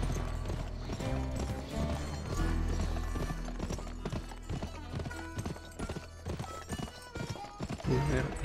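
Horse hooves clip-clop in a steady galloping rhythm in the video game GUN, set among loud music and game effects, with a horse whinny mixed in.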